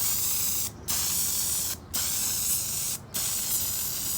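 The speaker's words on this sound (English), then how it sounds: "Look how this spray gives a nice vertical" Rustoleum spray paint hissing from a can onto a Jeep, three long loud bursts of steady spray separated by brief pauses, close up with no talk.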